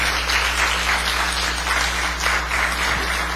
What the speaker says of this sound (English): can we give a round of applause again to our veterans for their service to our country?